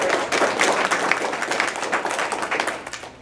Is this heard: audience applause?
yes